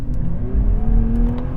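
A 2026 Nissan Z pulls hard under acceleration, its engine note climbing steadily in pitch with a loud, close, continuous drone and no talking over it.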